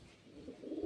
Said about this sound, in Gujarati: તો જો મિત્રો આપણા કબૂતર છે